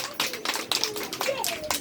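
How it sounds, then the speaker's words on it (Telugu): Children clap together at a preschool activity, a rapid, uneven burst of many small hands, fairly close, with the voices of children and adults mixed in. "క్లాప్స్ కట్టండి అందరూ."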